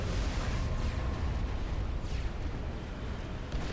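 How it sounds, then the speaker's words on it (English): Artillery shells burst over a base in Supreme Commander: Forged Alliance, blasting apart T1 power generators; heavy, rolling booms blend into a continuous loud rumble with scattered crackling impacts and no voices. "Some big explosions over there, knocking off a few T1 power generators"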